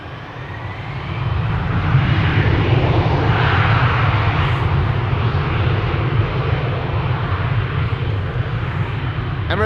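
KLM airliner on its takeoff run at Amsterdam Schiphol, a steady loud jet engine roar that swells in the first two seconds and then holds, heard alone without talk.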